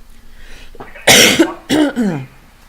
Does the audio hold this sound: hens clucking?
no